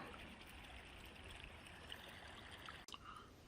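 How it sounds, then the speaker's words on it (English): A mountain stream trickles and babbles steadily at close range, a soft continuous flowing hiss broken briefly by a small click near the end. "listen to the water."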